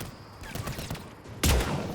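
In Mass Effect 3, gunfire comes from an enemy trooper on a mounted gun, a few scattered shots followed by a loud, close blast of sustained fire near the end.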